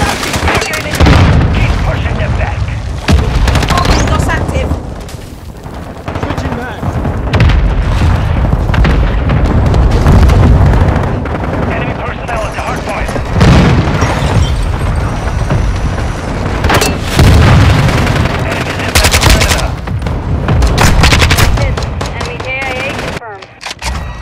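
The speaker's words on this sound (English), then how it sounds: "Mortar strike inbound" Repeated loud, booming mortar explosions in Call of Duty: Modern Warfare II, dense bursts of gunfire and blasts rolling across a battlefield with radio-style voice callouts mixed in.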